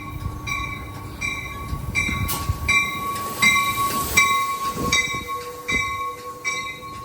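Amtrak Capital Corridor train 728 pulls out of Oakland Coliseum station, a loud, close rumble of rolling cars with a sustained horn tone and squealing wheels throughout.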